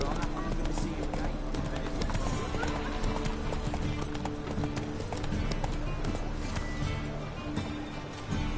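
Roach, a horse in a video game, clip-clops along at a steady gait, loud and continuous hoofbeats with an occasional whinny, heard under game speech and background sound throughout.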